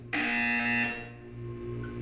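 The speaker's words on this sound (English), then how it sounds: "When you hear the buzzer, look up at the ceiling." Test-chamber buzzer in the Portal 2 video game, a single harsh, bright electronic tone that sounds loudly for under a second and then trails off into a humming room tone.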